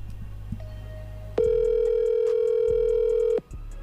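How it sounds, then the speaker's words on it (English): A phone call is placed and a steady telephone dial tone sounds for about two seconds, loud and close, then cuts off abruptly, with faint background noise before it. "She ended up calling Faze K-Song on stream around the time all of this went viral"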